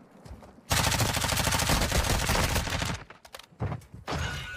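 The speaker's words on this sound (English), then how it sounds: "Did he just shoot me through the box?" Rapid automatic gunfire in a video game, a loud sustained burst of closely spaced shots lasting a couple of seconds, followed by a few scattered shots and thuds.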